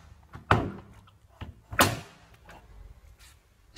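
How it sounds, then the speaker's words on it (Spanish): A Balay washing machine door is opened and closed, giving two distinct close thuds with clicks and a few lighter knocks in between, with no talk. "comprobar que la puerta está bien cerrada, y para ello la abriremos y cerraremos varias veces"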